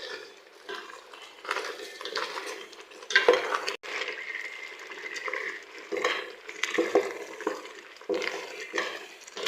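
Boiled taro stem greens stirred in a pan, with irregular close spoon scrapes and clanks against metal over a soft, wet sizzle, the strokes coming in uneven bursts.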